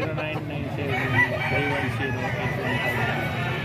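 Several gamecocks crow and cluck together in a steady, dense chorus, fairly close and loud, with people talking over the birds.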